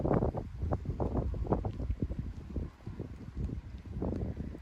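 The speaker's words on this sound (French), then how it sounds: "Là, c'est le vent qui fait les siennes." Gusty wind during a strong thunderstorm in Indre-et-Loire, France, buffets the microphone in low, uneven bursts, rumbling and close, with no voices.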